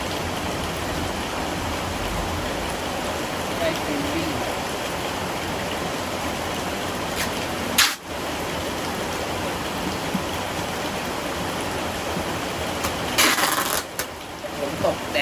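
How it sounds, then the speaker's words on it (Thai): Heavy rain pours steadily outside a small computer shop in Thailand, a dense, even hiss throughout with a couple of brief knocks partway through. "เสียงฝนดังมากเลยชอบมาก"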